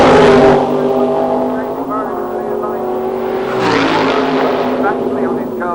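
A doorslammer drag racing car launches off the start line at the 1990 Santa Pod Thunderball meeting, its loud engine roaring and tyres squealing before the note climbs away, with a commentator talking over it throughout.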